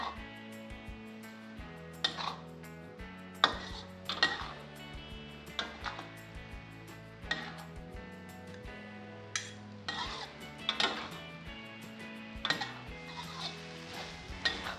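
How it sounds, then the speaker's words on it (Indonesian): Metal spatula scraping and clinking against a pan while Indonesian fried noodles (mie goreng) with sweet soy sauce are stirred, irregular knocks and scrapes every second or so over steady background music. "Sekarang diaduk dan kita masak sampai matang."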